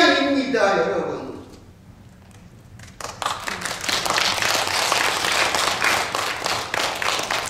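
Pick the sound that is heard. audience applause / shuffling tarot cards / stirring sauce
audience applause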